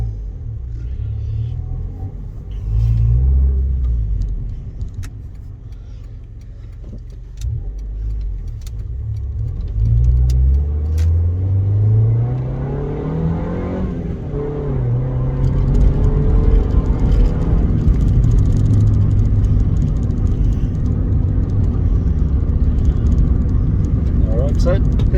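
Honda Civic driving and accelerating on a test drive, its engine note rising and falling through gear changes with a steady road rumble, while someone talks over it.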